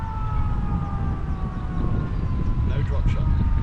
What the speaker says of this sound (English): with the siren going off, it's somehow focused me even more